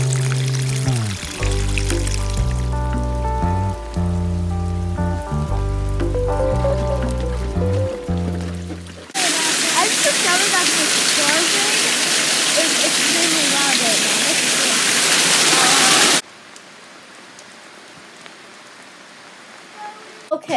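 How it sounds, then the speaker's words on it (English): Rainwater rushes down a neighborhood hill like a small waterfall during a huge rainstorm, a loud, dense splashing roar that takes over midway after a stretch of music, then drops to a quieter hiss. "there's some water going down this hill right here. That is so weird. It's like a waterfall almost."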